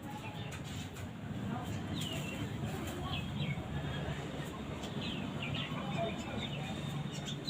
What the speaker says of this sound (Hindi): चिड़िया चहकने की आवाज़ आ रही है बाहर से।